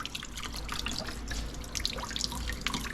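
Water pours and drips off a soaked Sedici cooling vest as it is lifted out and wrung, a close, uneven trickle with scattered splashes and patters.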